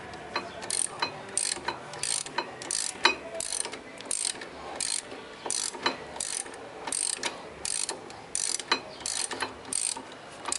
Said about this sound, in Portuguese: E agora eu tô tirando o parafuso de cima.